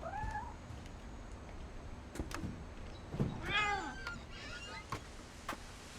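A cat meows in the game What Remains of Edith Finch, a couple of clear, close meows midway through a quiet scene with faint ambience and scattered soft clicks.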